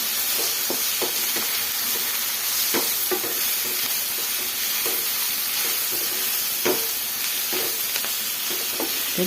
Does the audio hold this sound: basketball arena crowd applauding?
no